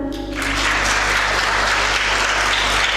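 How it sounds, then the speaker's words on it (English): Loud, dense applause from an audience at an English speech competition, rising sharply after a moment of quieter sound and holding steady to the end. "A big round of applause for them."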